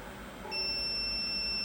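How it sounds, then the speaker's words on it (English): A high electronic beep from a Valoriani rotating pizza oven starts partway through and holds steadily over a low background hum. "In a short time you will hear the beep."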